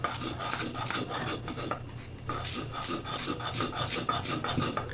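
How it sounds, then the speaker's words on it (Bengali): Yardlong bean mash with salt being ground on a shil pata grinding stone, a steady rough rasping scrape repeating in back-and-forth strokes, close and fairly loud, with a brief pause midway. "এখন বাটা দিব"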